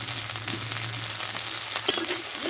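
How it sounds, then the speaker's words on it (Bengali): Ground turmeric, cumin, chili and coriander spices fry in a pan with a steady, close hiss and sizzle, holding an even level throughout, plus a small crackle near the end and no talking. "মশলাটা ভালো করে ভেজে নেব।"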